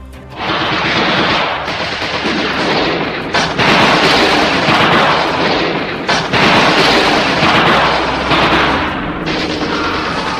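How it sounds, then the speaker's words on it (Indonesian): Continuous heavy machine-gun bursts mixed with booming artillery fire, loud and dense for the whole span as a wartime battlefield sound effect, with a few brief dips between volleys. "dari daratan terdengar suara senapan mesin laras panjang"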